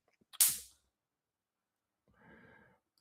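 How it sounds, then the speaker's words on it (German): A single sharp electric crack snaps close by as a mosquito hits a bug zapper, followed after a quiet pause by a brief, faint sizzling buzz. "Und da oben explodieren die Mücken. Oh, die brutzelt."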